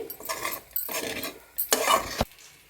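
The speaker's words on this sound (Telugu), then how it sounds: "సో నేను సరిపడంత వేసుకొని కలుపుకుంటాను" Uggani, a puffed-rice mixture, is stirred in a pan with a utensil, giving close scraping and rustling strokes in several bursts with clinks against the pan and no talk.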